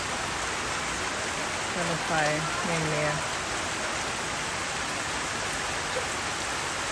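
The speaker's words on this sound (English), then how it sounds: "pouring rain outside." Steady pouring rain outside a small house in Samoa, a dense continuous hiss throughout with a brief harmonic voice-like sound near the middle.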